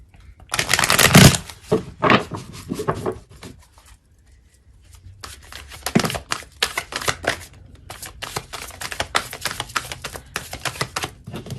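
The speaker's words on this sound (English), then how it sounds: "We're just going to shuffle one more time." Tarot cards riffle and bridge in repeated bursts, loud and close, with a short pause before another longer stretch of brisk shuffling.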